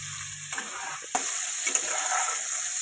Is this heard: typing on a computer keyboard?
no